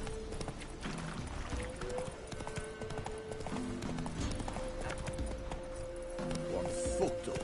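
Horse hooves clip-clop steadily at a walk in The Witcher 3 video game, a continuous rhythmic patter under a low ambient bed with a faint whinny near the end.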